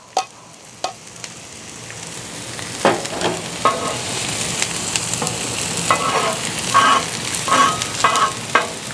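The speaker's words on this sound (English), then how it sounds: "listen to those onions sizzle." Onions sizzle steadily on a hot Blackstone griddle, with intermittent scraping and stirring clicks from a spatula.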